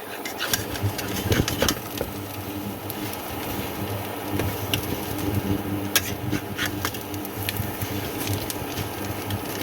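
An induction cooktop runs while chickpea greens cook, a steady low electrical hum and whir with scattered clicks and ticks of utensils, continuous and fairly close, no talking.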